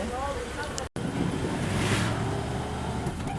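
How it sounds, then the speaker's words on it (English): Riding an auto rickshaw in Srinagar, with a steady rumbling engine and road drone and heavy wind buffeting the microphone throughout. "And now I'm riding an auto rickshaw towards the city center."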